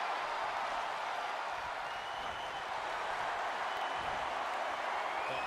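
A wrestling crowd at a tag-team 2 out of 3 falls match applauds in a dense, steady wash of clapping that holds evenly from start to end with no voices over it.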